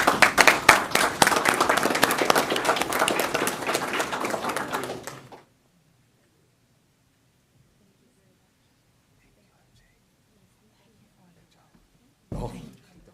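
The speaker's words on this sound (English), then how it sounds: "Can we give them a round of applause?" Audience at a Central Unified school district board of trustees meeting applauds students, a dense, steady roomful of clapping lasting about five seconds before stopping abruptly, followed by silence and a brief final burst of claps.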